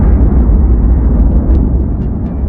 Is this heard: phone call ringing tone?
no